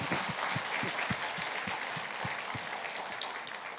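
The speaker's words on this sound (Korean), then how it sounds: "박수로 하나님께 영광을 올립니다." A church congregation applauds steadily together, a dense, even wash of clapping with some louder individual claps standing out, held at a constant level throughout with no speech over it.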